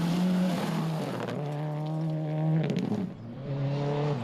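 A rally car with a blown turbo hose, its engine droning with shifting pitch as boost leaks, loud and close through the whole stretch.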